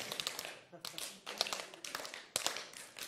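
Audience members pass a single clap down a row at a science conference keynote, a quick chain of sharp handclaps in bursts with brief gaps, as voices murmur over them.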